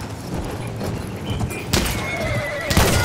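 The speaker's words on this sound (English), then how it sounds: "I just killed George with a horse." A horse in the Battlefield 1 video game whinnies twice amid battlefield noise, the neighs rising loud over a dense, rumbling backdrop with hoof-like thuds low in the mix.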